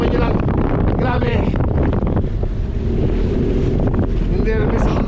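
Strong wind buffeting the microphone on a boat crossing open sea waves toward an island, a loud rushing roar with gusts throughout, while people exclaim and talk over it.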